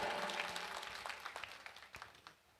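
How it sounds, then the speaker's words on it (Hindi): An audience at a Jain acharya's Mangal Pravesh ceremony applauds in a dense wash of many hands clapping that gradually thins and fades over a few seconds. "क्यों ताली बजाड़ी रहे हो तुम्हें?"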